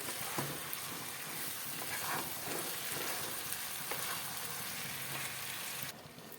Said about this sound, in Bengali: দিয়ে দিলাম দই মাখা চিকেন ভালো করে কষিয়ে নিতে হবে চিকেনটাকে